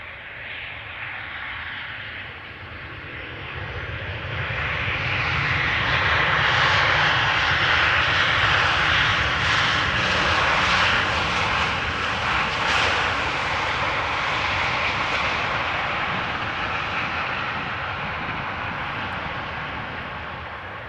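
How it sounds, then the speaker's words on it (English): A Transavia airliner on arrival at Amsterdam Schiphol, inbound from Heraklion, roars loudly and close by, its engine noise swelling to a broad peak mid-pass and then slowly easing off, with no voices. "Transavia flight 5724 arriving from Heraklion in Greece"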